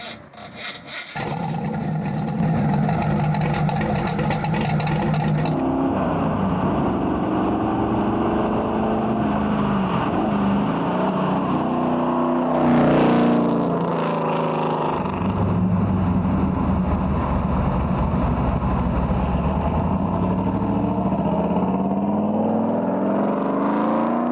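De Tomaso Pantera GT5 with a Ford V8 replacing the original 5.7 litre Cleveland and four large rear exhaust pipes, starting up and then revving and running loud and close, pitch rising and falling with the throttle.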